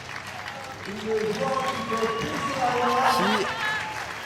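Spectators applaud at the Tchoukball Nations Cup next-generation girls' final between Switzerland and Singapore. The clapping forms a steady crowd wash beneath a commentator speaking French.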